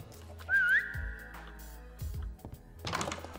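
A dog whistle blown once in Minecraft: a short, rising whistle tone that holds briefly, followed by soft thuds and game noise, with no talking.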